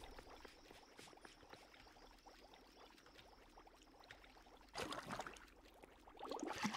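Water is fetched in the tavern game Ale & Tale Tavern, a soft pouring trickle that swells into a louder splashing gush toward the end, with no talking.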